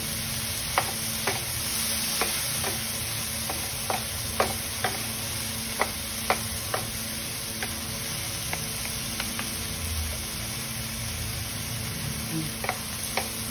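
Mushrooms sauté in a pan with a steady, close sizzle throughout, punctuated by sharp periodic clicks and taps of a utensil stirring them.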